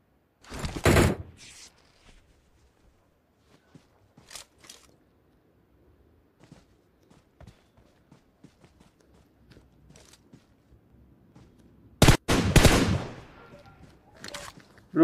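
In the video game BGMI, two sharp bursts of gunfire ring out, one early and one near the end, with quieter footstep-like clicks and shuffles between them.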